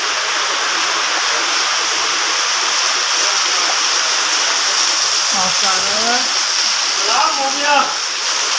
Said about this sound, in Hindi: ये देखें गाइस इतनी मूसलाधार बारिश